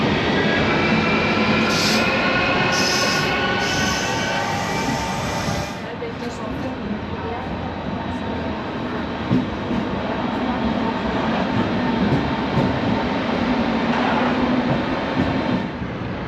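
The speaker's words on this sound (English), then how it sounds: "now we're going to get back on the train and we're heading back into Berlin" Train ride heading into Berlin: a steady, loud rumble of wheels and carriage noise running throughout, with faint high squeals and a slight dip partway through, no clear voices above it.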